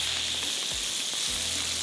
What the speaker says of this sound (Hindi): बस प्याज को हमने थोड़ा ब्राउन करना है।